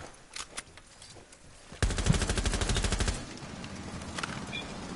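Gunfire in a video game shootout: a few scattered shots, then a loud rapid automatic burst of about a second, tapering off into softer distant pops.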